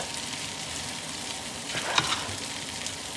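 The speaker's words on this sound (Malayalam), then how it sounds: "കറിവേപ്പില ഇടാം, ഉള്ളി ഇടാം, സവാള," Curry leaves, shallots and onion crackle and sizzle steadily in hot oil for a biriyani, with a soft stirring scrape and one brief sharper pop midway, and no voices.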